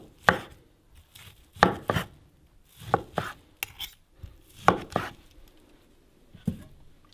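Knife chopping corned moose meat on a cutting board at a cabin, with about a dozen sharp, close chops in irregular clusters and short pauses between them, no voices.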